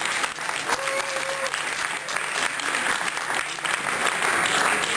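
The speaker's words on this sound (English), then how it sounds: "I'd like to give a big round of applause to Jonathan Dyer, patient advocate and musician." An audience applauds a patient advocate and musician at a cannabis town hall, with sustained, even clapping throughout and a faint brief tone early on.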